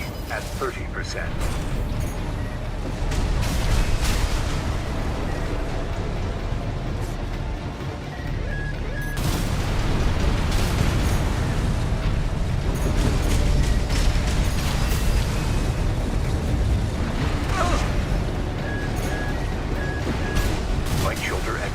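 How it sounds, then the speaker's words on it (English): Explosions and mechanical combat noise in the video game Armored Core, a dense, continuous loud roar of blasts and machinery, with a radio voice talking over it. "Use your mobility in the air to get clear of explosions on the ground."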